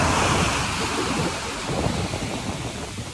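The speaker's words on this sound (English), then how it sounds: "Look at the ocean." Steady ocean surf rolling and washing on the shore, with a continuous broadband rush and wind buffeting the microphone throughout, no voices.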